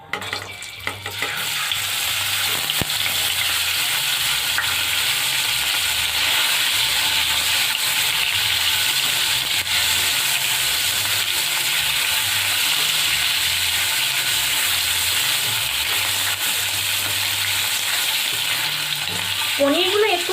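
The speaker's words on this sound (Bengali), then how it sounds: "এরপর পনিরগুলোকে একটু ভেজে নেব।" Paneer pieces frying in oil in a pan, producing a loud, even sizzle that holds steady throughout, with a faint low hum beneath.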